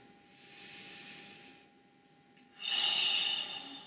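Slow, deep breaths taken during a beginners' whole-body stretching exercise: a long airy inhale, a short pause, then a louder, fuller exhale, close and alone.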